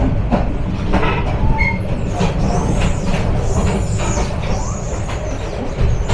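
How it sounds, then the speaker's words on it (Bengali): A Turna Express train pulls out of Laksam railway junction in Comilla, its carriages rumbling loudly and steadily with rattling and faint wheel squeals, heard from on board. "দুই মিনিট যাত্রাবিরতি সম্পন্ন করে ছেড়ে যাচ্ছি কুমিল্লা জেলার লাকসাম রেলওয়ে জাংশন"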